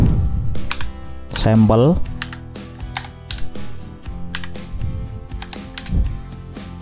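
Fingers tap on a computer keyboard in quick irregular clicks and short bursts, heard close, with someone talking briefly over the typing.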